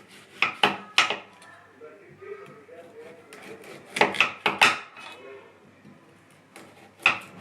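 A cleaver chops leafy vegetables on a wooden board as greens are washed and prepared for storage, with sharp knocks landing singly and in quick pairs and clusters, close and loud, separated by quiet gaps and some low sounds.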